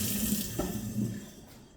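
Water runs steadily from a kitchen sink faucet, a close, continuous hiss and splash that fades slightly toward the end.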